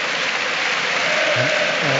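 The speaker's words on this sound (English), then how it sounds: "Just a magnificent roar throughout the game." Football stadium crowd at an Olympiacos versus Tottenham Hotspur Champions League match, a steady broadband roar of thousands of fans filling the whole stretch, with a commentator's voice briefly audible over it.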